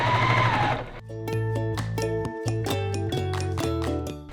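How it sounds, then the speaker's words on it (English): A sewing machine sews a gray fabric strip onto a pillow top. After a brief noisy start, it runs in close, rhythmic stitching bursts with one short pause midway. "I'm going to sew it right on to the top"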